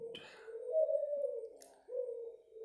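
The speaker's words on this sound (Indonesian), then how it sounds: "cuman maaf ada suara burung peliharaan bagus." A pet bird, a dove or pigeon, coos close by in two drawn-out, low calls, with a short pause between them and quiet surroundings.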